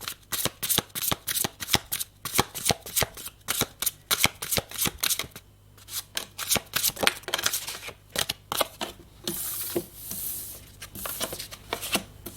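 Spiritual oracle cards being shuffled and drawn, a rapid run of crisp card riffles and flicks, close and loud, with short pauses and a brief hissy sweep near the end.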